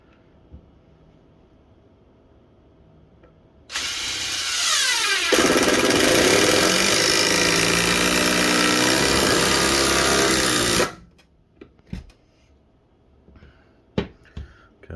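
A Ryobi One+ brushless HP impact driver drives a screw into wood with a loud, continuous buzzing hammer that runs about seven seconds, then stops abruptly, followed by a few scattered clicks and knocks.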